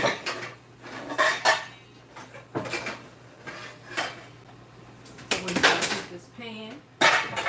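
Dishes, pots and cutlery clatter while being washed in a home kitchen, with repeated clinks and scraping bursts spread across the clip and a person speaking intermittently.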